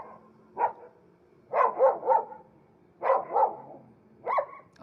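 A dog barks playfully in short, close, clear bursts: a single yap, then a quick run of three, a pair, and one more, with quiet pauses in between.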